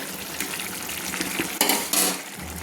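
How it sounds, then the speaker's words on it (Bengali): Eggplant and shrimp for begun chingri frying in a pan and being gently stirred, with a steady close sizzle and soft scraping of the spoon, two louder scrapes near the end. "দিয়ে একটু ভালো করে আমি নেড়ে নিচ্ছি, আস্তে আস্তে করে আমি নেড়ে নিচ্ছি"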